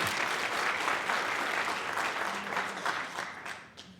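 An audience claps in a show-of-support poll during a panel discussion, with a full burst of applause that holds steady, then thins and fades toward the end.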